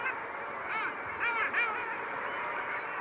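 Long-tailed ducks call off the Shetland coast, a faint flock of nasal, yodelling honks rising and falling over steady background noise.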